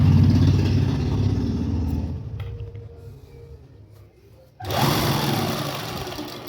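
A sewing machine stitches a salwar hem in a boutique, running in fast loud bursts that slow and nearly stop midway before revving back up at full speed.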